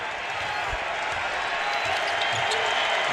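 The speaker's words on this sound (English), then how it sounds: "And you can hear the applause as some of the Eagles still make their way around the building." Arena crowd at an NBA game between the Washington Wizards and Philadelphia 76ers, a steady, dense wash of applause and crowd noise filling the building, loud and continuous with faint thumps beneath.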